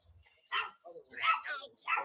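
Small dogs bark and yip in several close, sharp bursts indoors, with a few quieter whines between them.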